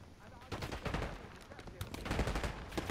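Rapid gunfire from Call of Duty Black Ops 6, dense bursts of automatic shots and impacts running continuously through the clip, loud and busy with overlapping reports.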